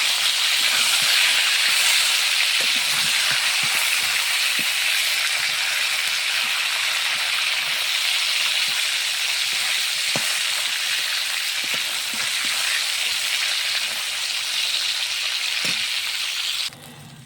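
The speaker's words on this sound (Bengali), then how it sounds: "মাছগুলো সুন্দরভাবে ভেজে নেব" Fish frying in hot oil gives a loud, steady sizzle and hiss that runs without a break, with scattered small pops, and stops abruptly near the end. No voices.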